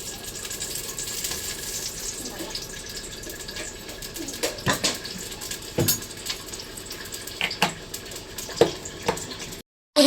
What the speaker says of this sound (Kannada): ಇಟ್ಕೊಂಡು ಈಗ ಫ್ರೈ ಮಾಡ್ಕೊಳ್ತಾ ಇದ್ದೀನಿ ಈರುಳ್ಳಿ